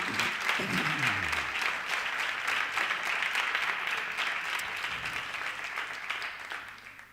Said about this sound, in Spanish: Le damos un aplauso al Señor en esta mañana